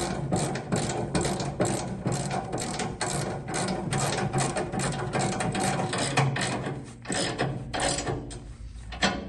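Rapid ratchet clicking from a 3/4 inch socket wrench bolting edge tamers onto a John Deere 2032R tractor bucket, close and steady in quick repeated bursts with brief pauses.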